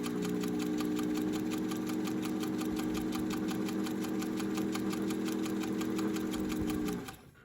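A sewing machine runs at a steady, even pace while stitching a seam, with a close rhythmic whir and needle clatter. It continues unbroken with no talking, then winds down and stops at the very end.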